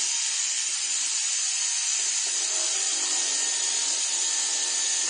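A rotary tool with a 006 round bur carves beads, giving a close, continuous high-pitched whine and hiss that stays steady throughout.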